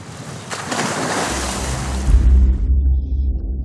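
Boat sailing on a lake, a loud close rush of water and wave wash that swells into a deep low rumble near the end, with no voices.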